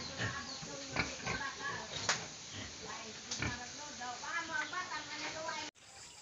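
A brown native pig grunts in repeated rough bursts around a farm pen, close and moderately loud over steady hissy background noise, ending in an abrupt cut.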